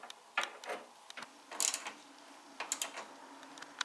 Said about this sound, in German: dann ziehen wir jetzt reihum alle Schrauben fest